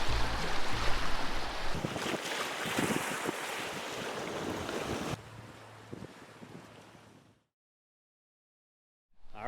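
Wind-driven waves wash against the Lake Superior shore on a grey, rainy autumn day, a loud, steady roar of surf and wind buffeting lasting about seven seconds before cutting to silence.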